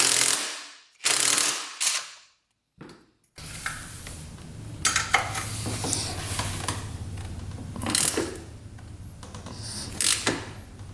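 A ratchet works a 12 mm engine bracket bolt on a rare 2-stroke race quad, starting with a few sharp bursts of clicking, then repeated close ratcheting strokes over a steady low mechanical hum.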